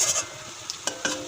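Shrimp fritters fry in hot oil with a steady sizzle, while a utensil stirs and scrapes the pan in a few sharp, close strokes.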